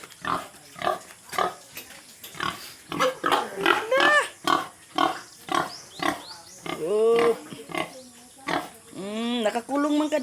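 Pigs in a pen grunting and squealing close by, a steady run of short rhythmic grunts broken by several louder, drawn-out squeals, with no talk over the animals.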